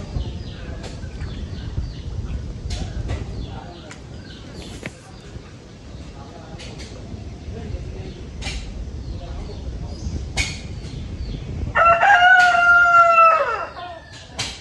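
Chickens kept in a pen cluck and shuffle sporadically at close range, then a rooster lets out one loud, clear crow near the end.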